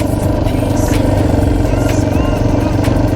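A new dirt bike's engine runs steadily at close range while being ridden, holding a continuous loud drone with a few brief rev surges and faint rattling over the top.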